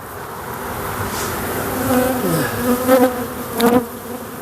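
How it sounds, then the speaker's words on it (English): Honeybees buzz steadily around an opened hive during an inspection, a dense close drone with a few individual bees swelling louder as they pass near, with no talking. "Don't have a million bees in my face."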